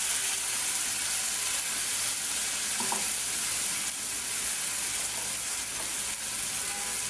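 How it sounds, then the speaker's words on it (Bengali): Onion and green chili paste frying in a pan while cooking egg bhuna, a loud, steady sizzle throughout with a faint clink partway. "এখন দিয়ে দিব বেশি করে পেঁয়াজ আর কাঁচামরিচ বাটা"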